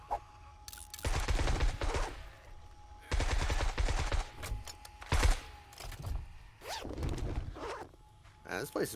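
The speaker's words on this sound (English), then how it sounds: "Come on, turrets, do your thing." Automatic turrets fire in the 7 Days to Die Darkness Falls mod while defending a horde base in Central Park, letting off loud bursts of rapid gunfire in several clusters, with a voice talking between the volleys.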